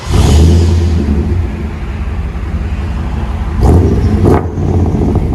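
Chevy/GMC 5.7L V8 with a loud true dual exhaust running all the way back, a heavy low rumble that swells in two sharp revs near the end, close and alone with no talking.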